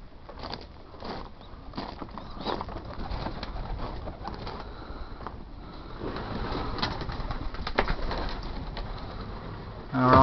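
Young racing pigeons coo softly inside a loft, layered low cooing with light rustling and occasional wing flutters, fairly faint and close, with no talking.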